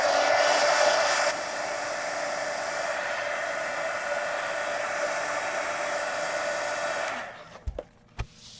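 A hair dryer blows a steady, loud whoosh over a watercolor wash on a coloring book page, its pitch dropping slightly early on before it switches off, followed by a few soft knocks.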